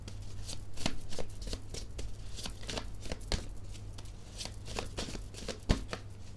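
Tarot cards being shuffled by hand, a continuous riffle of papery flicks and soft slaps at close range with a low steady hum underneath.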